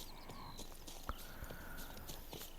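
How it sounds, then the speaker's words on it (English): Horse hooves clip-clop at a walking pace in The Witcher 3, a soft, steady series of hoof falls over a faint ambient bed. "Vamos a nuestro caballo."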